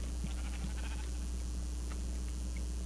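Sheep in the video game Minecraft bleating in a few short, quiet calls over a steady low game hum, with no voices.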